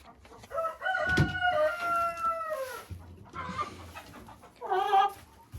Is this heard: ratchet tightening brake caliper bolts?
no